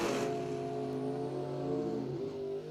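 Drag race car at a bracket racing event running in high gear only, a steady loud engine drone with sustained tonal harmonics that dips slightly near the end.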